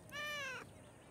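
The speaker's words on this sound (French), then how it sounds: "Oh, petit minou! Eh ben, qu'est-ce que tu fais là-haut?" A cartoon kitten gives a single short, high, clear meow over a quiet background.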